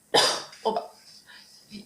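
A sharp single cough up close, followed by a couple of smaller throat-clearing coughs that trail off.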